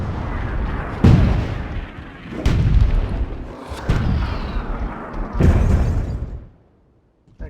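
Battle gunfire and booming blasts from units in the fantasy strategy game Myth 2: Soulblighter, four heavy thumping bursts over roughly five seconds with rumbling between them, then fading to near silence.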